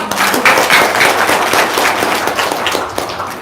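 An audience breaks into dense, loud applause, many hands clapping at once in a steady, crackling wash that holds for a few seconds without talk.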